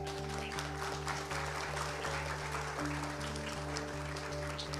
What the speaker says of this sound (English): let's give some applause to the panelists